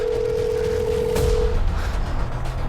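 A phone rings out after being dialed, a steady single tone holding for about a second and a half before cutting off, with a thud and low background rumble beneath it and no voices.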